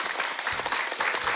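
Children in a studio audience clap for their guest, a brief burst of lively applause with a few distinct claps among the rustle, moderately loud and without speech.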